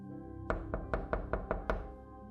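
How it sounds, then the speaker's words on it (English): Loud knocking on a front door: six firm, evenly spaced raps in a steady rhythm, close and prominent over a low sustained musical background. "A loud knock at the front door stops our conversation cold"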